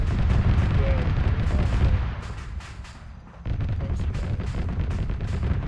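Rapid booming bursts of heavy Apache helicopter cannon fire in Arma 3 rumble continuously, dipping briefly before resuming, dense and loud like sustained autocannon in a game battle.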